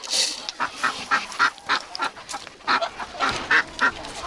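Turkeys being fed oats call in a string of short, loud honking gobbles. The calls come close together in quick bursts from birds near the listener, with no talking.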